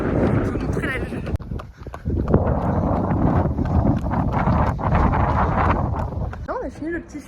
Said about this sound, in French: Beaucoup de vent, assez froid.